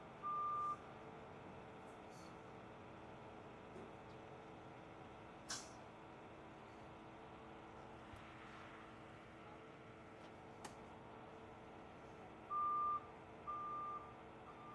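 A tow truck maneuvering back and forth, engine idling low in the background while its reversing beeper sounds in short bursts at the start and again near the end, with a few faint clanks in between.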